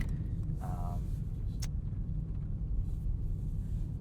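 A 2020 Mercedes-AMG GT 63 S being driven hard on the road, its engine a steady low rumble throughout, with a brief higher tonal whine early on and no talking.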